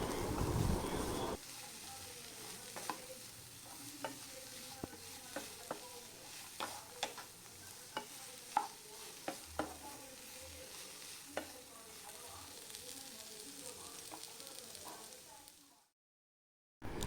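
Onion and coconut pieces fry softly in a pan while being stirred, giving a low steady sizzle with scattered scrapes and taps of a spoon, before the sound cuts out near the end.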